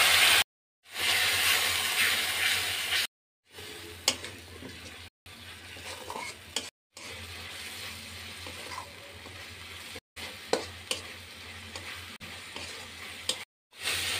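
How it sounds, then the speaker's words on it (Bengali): Spice paste with turmeric, chili powder and salt sizzles in a pan with a little water, with soft scraping from stirring; the quiet frying is broken by several abrupt silent gaps. "এখন আমি অল্প জল দিয়ে মশলাগুলো কষিয়ে নেব।"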